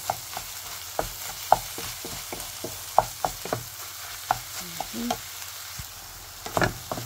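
Bitter melon and egg fry quietly in a pan with a soft sizzle, punctuated by a series of sharp scrapes and clacks from a utensil stirring the mixture at irregular intervals.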